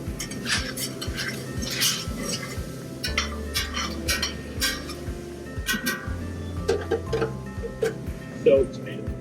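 Vegetables and mushrooms get stirred in a pot for a seasonal stew, with scattered clinks and scrapes of a utensil against the cookware under someone speaking.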